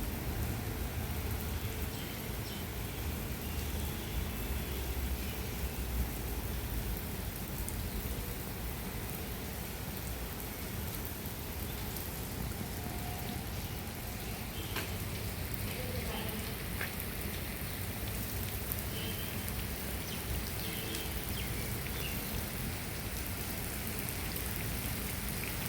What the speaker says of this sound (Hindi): बारिश फ़िलहाल और तेज़ हो गई है।